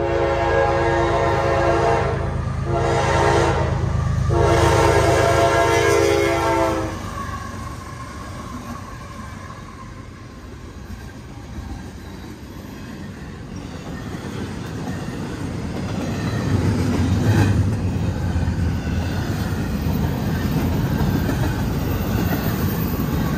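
A CSX heritage unit locomotive passes close by, sounding loud sustained horn blasts for the first several seconds before the horn stops and a steady rumble of rolling rail cars takes over, swelling again near the end. No voices.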